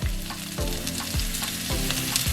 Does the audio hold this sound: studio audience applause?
no